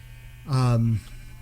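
A single sheep bleats once, close and loud, a short wavering cry lasting about half a second over a steady low electrical hum.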